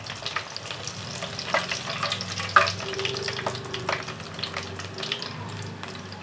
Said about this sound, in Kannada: ನೋಡಿ ಈ ರೀತಿಯಾಗಿ ಅವಲಕ್ಕಿನ ಹಾಕಿಬಿಟ್ಟು ಚೂಡಾನ ಕರಿಬೇಕು